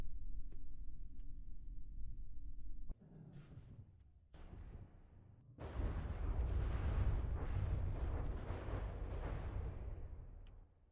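An enemy ship in the naval combat game From The Depths fires a heavy barrage, a low rumble that drops off and then bursts into dense, loud, sustained rapid shooting for the last five seconds.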